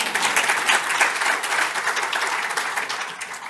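Audience applause at an AI keynote talk in London, a loud dense patter of many clapping hands that holds steady throughout and tapers slightly at the end.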